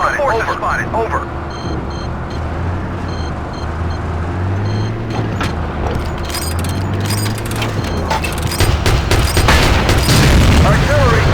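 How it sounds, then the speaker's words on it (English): Heavy artillery explosions in the Battlefield 2 video game rumble as a dense, continuous barrage, building louder and harsher toward the end, with a radio-style voice speaking over it. "Artillery, your area."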